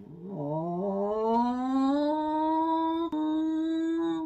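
A voice imitates a low-displacement motorcycle engine with a steady rising drone that climbs in pitch and then holds, like revving up through a gear. It is nasal, close and continuous for about four seconds.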